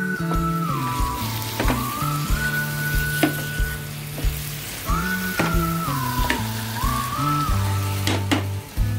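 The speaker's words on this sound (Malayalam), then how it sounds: "ഫ്രൈ ചെയ്ത പൊട്ടാറ്റോ, ഇതൊന്ന് മസാലയൊക്കെ പിടിക്കണവരെ ഒന്ന് ഇളക്കിയിട്ട്" Fried baby potatoes in masala sizzle under loud tonal background music while occasional stirring clatters and scrapes come through.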